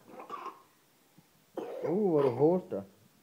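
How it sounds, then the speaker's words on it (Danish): A young child gives a short cough, followed after a pause by a longer, wavering vocal sound from the child, all recorded quietly indoors. "Hvor du hoster. Du skal holde dig for munden."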